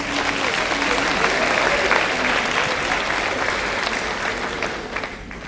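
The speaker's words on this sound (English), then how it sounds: "Let's give them a big round of applause." A crowd at a mayor's senior town hall meeting in Florissant claps loudly for the city's Senior Advisory Commission, a thick, continuous roar of applause that holds steady and then tapers slightly toward the end.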